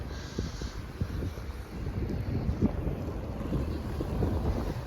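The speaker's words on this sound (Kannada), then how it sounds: "ಇವತ್ತು ಸ್ನೋ ಕೂಡ ಬರ್ತಾ ಇದೆ ಗಾಳಿ ಕೂಡ ಇದೆ" Wind gusts buffet the microphone during snowfall outside a hostel in minus twelve degree cold, a low rumbling roar with uneven bursts that swell and ease throughout.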